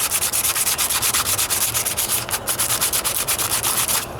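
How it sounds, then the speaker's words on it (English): A 320-grit sanding sponge scrubs back and forth over the wet painted hood of a 1998 Toyota Corolla, making a rapid, rhythmic rasping close to the microphone, with strokes about five per second and a short pause near the end. "And I'm using an old sanding sponge"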